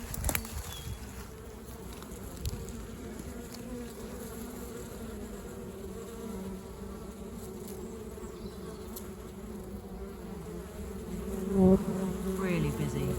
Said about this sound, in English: it's really busy. Look how many bees there are.